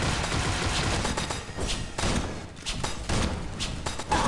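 Sharp ricochet rings thrown in the Pixel Gun 3D shooter game, heard as a dense run of loud, rapid impact bursts and gunfire-like cracks that keeps up throughout with no talk.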